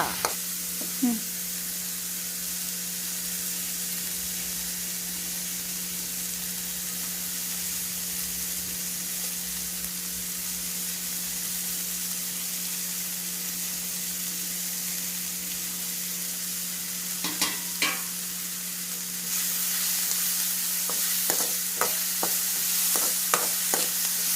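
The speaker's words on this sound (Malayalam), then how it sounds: "വഴറ്റിയ സവോളയിലേക്ക് കറിവേപ്പില, ഇഞ്ചി, വെളുത്തുള്ളി, പച്ചമുളക് ഇവകളെല്ലാം ഇട്ട് കുറച്ച് നേരം വഴറ്റുക" Onion sautéed with curry leaves, ginger, garlic and green chilli sizzles in a steady, continuous hiss, with a few brief scrapes of stirring scattered near the end.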